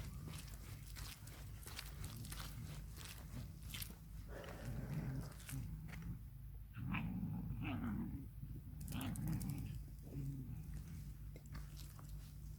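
Border collies growl low and rough at close range in several short bursts between quieter gaps, with scuffling movement around them and no talk.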